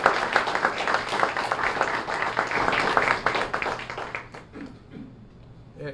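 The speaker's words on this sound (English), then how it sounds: "Can I get a round of applause for our video crew and the team here?" A school audience applauds a video crew and staff at a Student of the Month event, a dense wash of many hands clapping that holds steady, then thins and fades toward the end.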